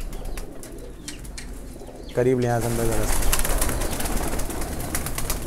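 Soft coos of highflyer pigeons rumble close by amid fluttering and shuffling in a breeding loft, with someone speaking briefly over them.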